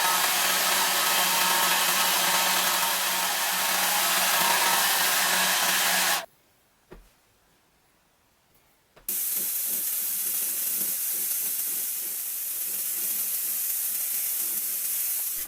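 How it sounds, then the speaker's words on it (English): An old Remington Big Shot hair dryer blows loudly and steadily, cuts off for a few seconds of near silence, then starts again and runs on. "I'm going to dry one half with my old Remington Big Shot hairdryer, which is really old"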